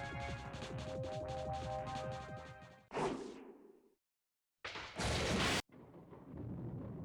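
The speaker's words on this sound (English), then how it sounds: "Lightning and thunder struck like an explosion." A thunder crash sound effect from the Higurashi visual novel: a sudden sharp crack breaking over music and decaying into a low rumble, then silence, then a second loud burst of noise before the music returns.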